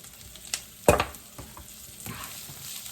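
Bacon, onion, shallot and pepper cooking in a pan, with a loud stirring scrape near one second, a smaller clink before it and a steady soft sizzle underneath.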